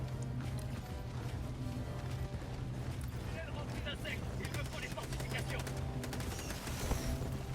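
Automated turret gunfire in the Helldivers 2 video game, rapid bursts of shots and mechanical clatter under steady talking and game sounds.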